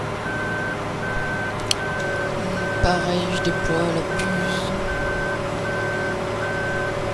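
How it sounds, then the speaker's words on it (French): A reversing warning beeper on a combine harvester sounds in a steady, evenly spaced series of about a dozen short tones over a continuous engine hum, while a person speaks quietly over it. "si on voit une moissonneuse qui recule"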